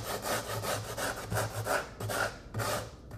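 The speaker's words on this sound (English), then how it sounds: "once you've got it that far, we call it a form rasp" A form rasp, a sheetrock tool, is drawn across a taxidermy form for a bobcat mount, producing repeated rhythmic scraping strokes, close and fairly loud, with brief pauses between passes.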